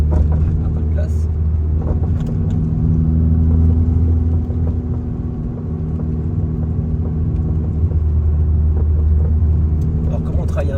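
A car circling a roundabout just after setting off, its steady low engine rumble and road noise continuous and close throughout.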